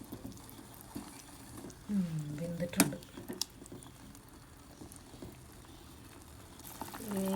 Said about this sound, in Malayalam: ചിക്കൻ നോക്കുമ്പോൾ നല്ലോണം തിളയ്ക്കുന്നുണ്ട്